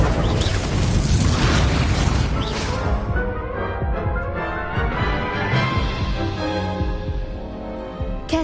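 A Confringo fire spell explodes in Hogwarts Legacy: a dense, booming burst that opens loud and then settles into a rumbling, crackling tail that fades over several seconds.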